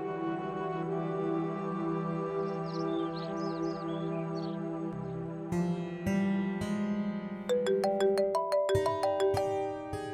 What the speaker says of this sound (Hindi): मरियम का फोन है।